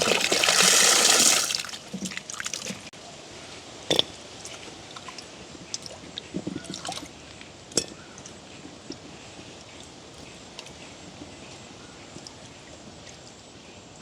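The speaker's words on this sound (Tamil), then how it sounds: "கருவாடு நாங்கள் கழுவி எடுத்துட்டோமே" Water runs loudly for about two seconds while dried fish is washed in a village kitchen. Quieter splashes and handling clicks follow, close by, with no talk.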